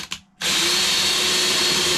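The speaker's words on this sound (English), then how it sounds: "So next, what we got to do is drill the hole." Power drill boring a hole into the fiberglass of a Catalina 25 sailboat, starting with a couple of short bursts, a brief pause, then a loud, steady high-pitched whine of the bit cutting through the fiberglass.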